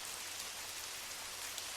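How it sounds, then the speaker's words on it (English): Gentle, steady rain falls on the cobblestone streets of Montmartre in Paris, a soft, even hiss of drops with no voices and no other sounds. "The rain has come in gentle waves, not overwhelming, but persistent"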